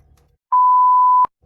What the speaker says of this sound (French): tu avais la même coupure avec le bip